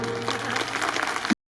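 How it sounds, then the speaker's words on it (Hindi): A village gathering's audience claps briefly, with a steady tonal hum underneath, and the sound cuts off abruptly after about a second. "तालियां बजाइए"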